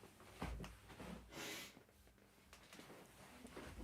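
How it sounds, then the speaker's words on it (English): Sniffing from a person with a cold, several short nasal breaths close to the microphone, soft and intermittent in a quiet room. "Excuse me with the sniffing."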